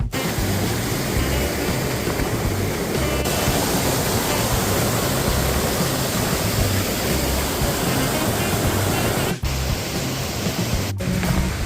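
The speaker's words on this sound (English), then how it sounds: "But I feel we came across a waterfalls already." A jungle waterfall on a Kudremukh trek roars as a dense, continuous broadband rush, loud and close, steady throughout with only momentary dropouts.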